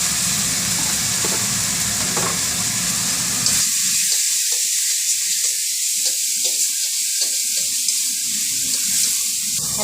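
Turmeric and salt fry in hot oil as the base for a fish curry, giving a continuous loud sizzle with stirring noises and no voices.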